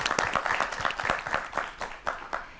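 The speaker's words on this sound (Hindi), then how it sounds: "तालियों से स्वागत करना चाहूंगी आप सभी का।" Studio audience on an Indian evening television discussion programme clapping in welcome, a thinner round of distinct, separate claps, moderately loud and uneven in rhythm, with no speech over it.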